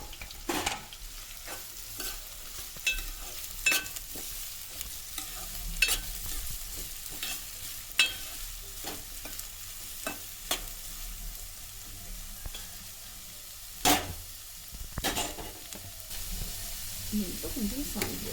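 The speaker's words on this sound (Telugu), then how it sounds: "ఇప్పుడు ఆనియన్స్ వేసేసుకోవాలి" Thinly sliced onions fry quietly in a pan for an egg and brinjal curry, a low sizzle punctuated by frequent sharp spatula scrapes and knocks as they are stirred.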